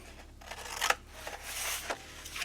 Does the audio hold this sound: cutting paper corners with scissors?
yes